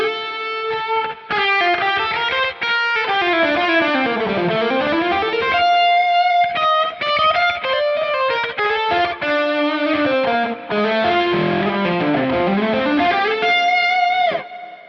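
An overdriven electric guitar through a Line 6 Helix, using a Dumble-style lead tone, plays a fast lead line with sustained distorted notes, sliding and bending phrases, loud and continuous without any voice.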